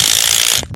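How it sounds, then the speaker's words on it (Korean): Bolt being fastened with a ratchet while fitting a saddle in a drip irrigation setup, a short loud burst of rapid clicking that stops abruptly, close and with no talk. "그리고 나서 볼트를 이렇게 체결을 해주시면 됩니다"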